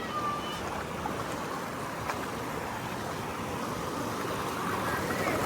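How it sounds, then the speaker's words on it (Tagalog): A fast river current in Dingalan, Aurora, Philippines, rushes steadily through the whole clip, a constant broadband roar, close and loud with no pauses. "Malakas yung agos dito."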